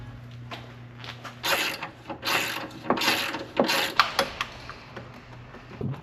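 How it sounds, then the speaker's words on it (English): A ratchet wrench loosening car battery and battery tray bolts, repeated bursts of rapid clicking pawl strokes with small pauses between, close and fairly clear with faint mechanical rubbing. "I'm gonna go ahead and disconnect the battery, take it out, and then get the battery tray out."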